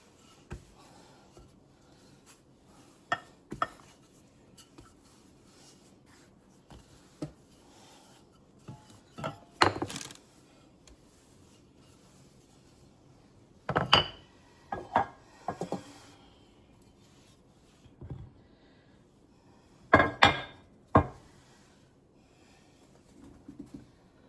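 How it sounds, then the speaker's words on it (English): Homemade bread dough is rolled out on a counter, with soft intermittent rubbing and knocking strokes from the rolling pin in short bursts amid quiet pauses, no talking. "I roll it out, and I don't want it super thin, but I roll it out enough to make it manageable."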